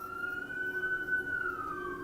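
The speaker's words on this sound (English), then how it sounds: "as I hear sirens" Emergency vehicle sirens wail steadily at a moderate distance, their tones sliding and overlapping over low traffic rumble, with no other sounds on top.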